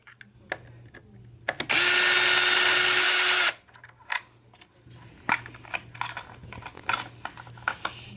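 A Black & Decker 20 volt cordless drill runs in one loud, steady whir of about two seconds while loosening a spur gear cover screw on a Traxxas X-Maxx, surrounded by quieter clicks and handling noises.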